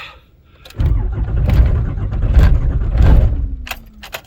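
A 5.9 Cummins diesel engine cranks over in cold weather with the coolant at 28 degrees. The close, loud, labouring churn lasts about two and a half seconds after a click, then dies away with a few light clicks.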